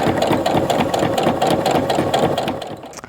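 Sewing machine stitching the lining of a zip top bag, a steady fast whirring run of needle strokes that stays loud and close before easing off at the very end.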